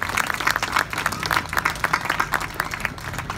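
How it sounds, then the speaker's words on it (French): Audience applause for Pierre Abadie at a ceremony, a dense crowd of hands clapping steadily and fairly close for a few seconds, with no voices on top. "on pourrait applaudir Pierre Abadie pour l'action qu'il a menée ici tout au long de ces nombreuses années"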